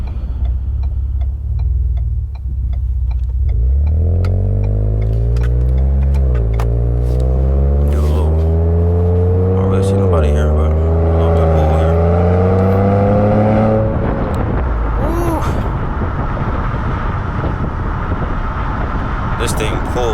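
Ford Fusion Sport with an MRT V2 exhaust accelerating hard on the road, engine note climbing through several rising pulls with gear shifts, loud and close, then settling into steady road and wind noise.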